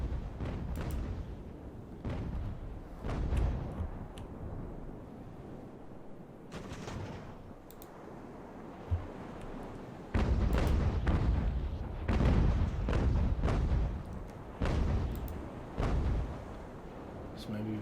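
Broadside cannon fire from sailing warships in the Ultimate Admiral: Age of Sail naval battle game, with repeated booming shots and rolling volleys throughout over battle ambience, with someone talking over them.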